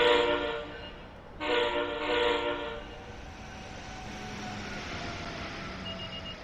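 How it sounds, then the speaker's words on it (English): Diesel locomotive horn in Train Sim World 3 on a US freight route, two loud sustained chord blasts over the first three seconds, then fading into steady rumbling train noise. "in some respect, the horn does sound good, but in other aspects of the route, it sounds rubbish"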